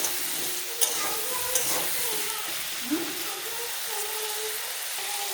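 Turmeric and spices fried in a pan and stirred: a steady loud sizzle with scraping strokes from a spoon, and a few brief clinks over it.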